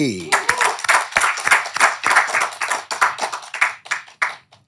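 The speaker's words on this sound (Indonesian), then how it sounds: "Tepuk tangan buat VOB." An audience claps for the guest group VOB on a talk show, a steady run of dense, even clapping lasting several seconds, fairly close, with a voice over the opening moment.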